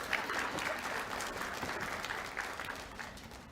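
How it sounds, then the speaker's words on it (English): Applause from an audience at a college's MLK celebration ceremony, welcoming the institution's president: a steady wash of many hands clapping for about three and a half seconds, fairly even in loudness and easing slightly at the end. "So give him a round of applause."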